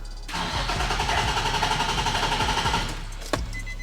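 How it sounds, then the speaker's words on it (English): Drift car engine, one with a blown engine, cranking over on the starter during a cylinder compression test: a steady rapid chugging churn lasting about two and a half seconds, close and loud, then a sharp click as it stops. "let's go ahead and crank that again"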